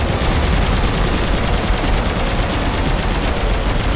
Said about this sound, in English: the minigun is a more violent addition than usual here